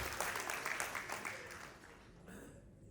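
Faint applause from guests at a betrothal ceremony, a soft steady patter of clapping that thins out and fades away after a couple of seconds.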